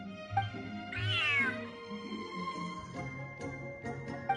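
A cat in a video game lets out a clear, drawn-out meow that rises and falls, followed by softer short mews and faint game sounds in the background.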